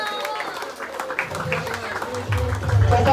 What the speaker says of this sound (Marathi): जोरदार टाळ्यांच्या टाळ्या चालूच राहू दे टाळ्या